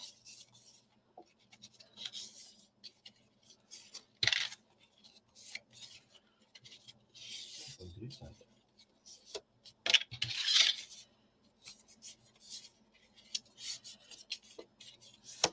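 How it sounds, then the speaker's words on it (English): Paper or card being folded along pre-scored lines by hand, giving soft crinkles, rubs and brief creasing swishes scattered irregularly across a quiet, close-up background with no talking. "So I'm just going to fold on those score lines."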